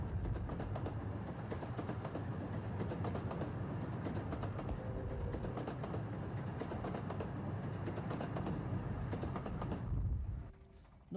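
A train runs on the Romney, Hythe and Dymchurch Railway, a steady rumbling roll with rhythmic clatter held at an even level for about ten seconds before dropping away abruptly.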